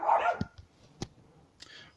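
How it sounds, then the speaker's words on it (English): Next door's dogs barking: a few short, sharp barks spread across a couple of seconds, heard from a distance within a quiet indoor room. "That's next door's dogs."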